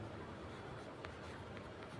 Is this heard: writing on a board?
yes